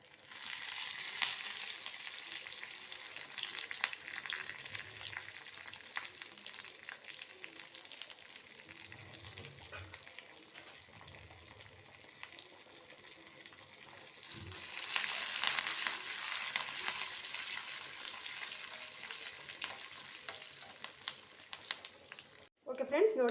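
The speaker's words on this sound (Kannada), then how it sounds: "ನೋಡಿ ಸಾಸಿವೆ ಸಿಡಿತಾ ಇದೆ, ಒಗ್ಗರಣೆ ಕೂಡ ರೆಡಿಯಾಗಿದೆ" Mustard seeds and curry leaves spluttering in hot tempering oil for an ash gourd sambar, a steady crackling fry with louder bursts partway through and a sharp clatter at the end.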